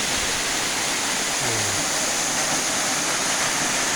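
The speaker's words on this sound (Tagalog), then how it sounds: "Ayan po ang Nabuho, ng falls ng Nabuho." Nabuho waterfall on Mt. Nabuhe in Cabangan, Zambales, roars as a dense, constant rush of falling water, loud and unbroken throughout.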